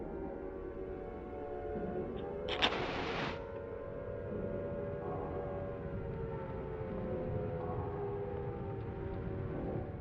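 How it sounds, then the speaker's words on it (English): A low, droning siren in the video game Silent Hill wails steadily over a dark rumbling ambience, with a brief burst of hiss partway through. "the most noticeable sound that we now hear is a very ominous siren"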